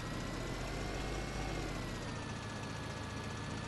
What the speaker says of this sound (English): And then repositioning the tractor, like doing this, then driving over here.